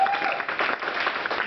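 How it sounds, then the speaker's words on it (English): A theatre audience claps at the end of a comedy-style stage show, a steady burst of applause filling the room close by and continuing throughout. "Give yourselves a round of applause."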